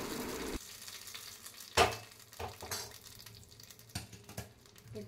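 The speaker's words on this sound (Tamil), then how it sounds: "தாளித்து இந்த தாளிப்பை சட்னி மேலே சேர்த்துடலாம்." Hot spice tempering is poured over stone-ground peanut chutney, giving a brief burst of sizzling up close that settles into soft crackling with a few utensil clinks.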